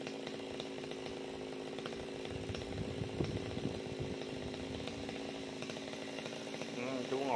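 A chainsaw saws through a thick branch of a large dáng hương tree, run by a man sitting up in the tree; the engine drones steadily at a distance, swelling slightly near the end, while voices talk beneath it.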